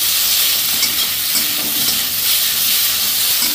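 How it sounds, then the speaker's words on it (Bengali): Boiled pasta tossed in a hot pan with green chillies crackles loudly, a dense, unbroken close-up sizzle with faint stirring movement underneath. "পাস্তাটা একটু ভাজা ভাজা হয়ে গেছে।"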